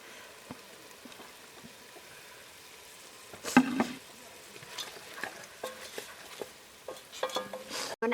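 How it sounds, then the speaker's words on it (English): Onions and tomatoes frying together for Ambur chicken biryani, a faint sizzle with scattered stirring clatter and scrapes of a spoon in the pan, growing busier toward the end. "You add the onions and the tomatoes together."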